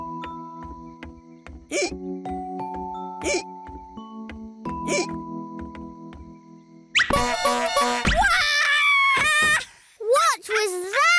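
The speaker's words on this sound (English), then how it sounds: "I put a tootie horn under the chair to surprise you all." A toy tootie horn hidden under a chair in a cartoon blares a run of loud, wavering honks that follow a stretch of quiet music and hiccup sounds.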